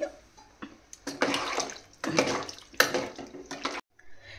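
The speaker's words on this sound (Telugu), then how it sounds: "ఈ పులుసులోకి నేను సరిపడా వాటర్ వేసుకుంటున్నాను, సరిపోతుంది." Water is poured in several splashing bursts into a pot of bottle gourd stew, each surge a few seconds apart, close and fairly loud, ending abruptly.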